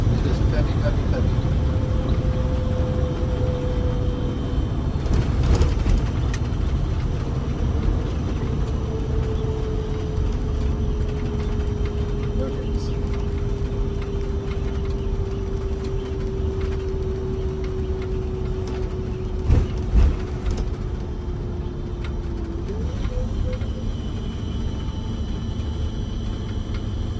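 MCI bus on a test drive, a low engine drone running throughout with a rising and falling whine as the transmission shifts, the cabin rumble close and steady.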